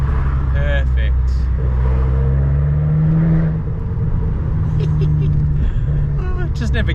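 Abarth car engine droning and revving while driving through city streets between buildings, a loud continuous low rumble with shifting pitch, and people talking over it.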